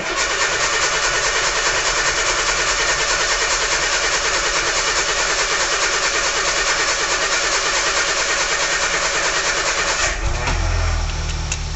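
A 1980 Mini 1000 automatic that has sat unused for months cranks with a steady, rapid churning for about ten seconds before the engine catches and fires into a rough, low idle.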